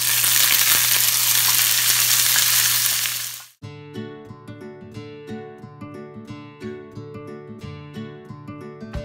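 Ghee sizzles loudly for about three and a half seconds as curry leaves and cashews fry in the hot fat for a sambar rice tempering, then the hiss cuts off abruptly and music plays.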